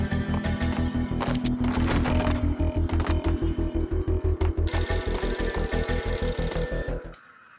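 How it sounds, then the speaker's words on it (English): An old, beaten-up telephone in a run-down entrance hall in the video game Max Payne ringing, a fast mechanical bell rattle in repeated bursts, steady and clear, cutting off abruptly at the end. "A beaten-up phone in the entrance hall was ringing."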